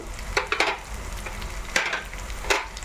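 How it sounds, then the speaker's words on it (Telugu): Fenugreek seeds sizzling in hot oil for homemade curry leaf powder, with a steady fry hiss broken by a few sharp crackles and stirring scrapes, close up and without talk. "తర్వాత నేను మెంతులు వేస్తున్నాను"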